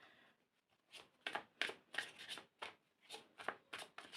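Tarot cards are shuffled by hand in quiet, rapid riffling bursts repeated about a dozen times, close up with no talk.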